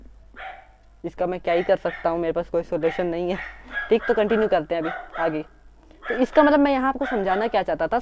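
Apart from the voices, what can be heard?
dog barking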